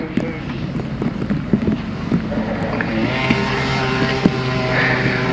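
Grasstrack racing motorcycles rev together on the start grid, a loud, continuous engine drone with rising harmonic tones as the pack builds up revs, heard through wind buffeting on the microphone.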